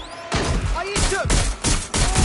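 Repeated volleys of gunfire in the video game Watch Dogs Legion, several loud, close bursts coming in quick succession with heavy thumps between them and no talking.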